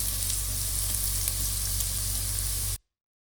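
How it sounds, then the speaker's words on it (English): Turmeric powder frying in ginger garlic paste for a karahi paneer gives a steady, close, loud sizzle with a constant low hum beneath, cutting off abruptly near the end. "at this stage add turmeric powder and cook it for about 30 to 40 seconds"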